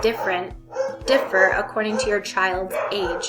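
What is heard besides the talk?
dogs barking in the background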